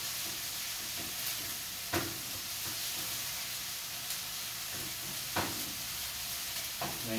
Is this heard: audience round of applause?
no